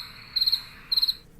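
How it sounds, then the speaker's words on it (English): Cricket chirping sound effect: two short bursts of rapid, high-pitched trilling chirps, clear and fairly close, separated by a brief pause and then fading into quiet. "it's crickets."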